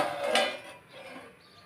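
A metal lid is set onto a pot of freshly mixed fish curry in a home kitchen, giving a single close clank followed by a soft, fading rattle.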